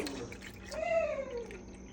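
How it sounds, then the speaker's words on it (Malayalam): Milk pours into a container for mango lassi, a wet gurgling stream whose pitch slides upward as the vessel fills, close and fairly quiet. "നമ്മൾ ഇച്ചിരി പാൽ ഒഴിക്കുകയാണ് ഗൈസ്"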